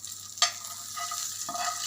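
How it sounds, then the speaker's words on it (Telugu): Tempering sizzling as it is mixed into tomato and pepper rasam: a sharp hiss bursts out, then a quieter sizzle with soft stirring follows, close-up, without speech. "ఇలా తాలింపు వేసుకొని రసము కలిపేసుకున్నాము"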